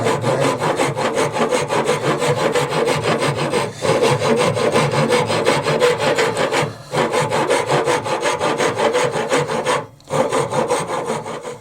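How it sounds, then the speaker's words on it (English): A metal file rasps steadily against wood, shaping a narrow groove in a back scratcher with rapid, even back-and-forth strokes close by, pausing briefly twice. "I'll get the file and start filing that down."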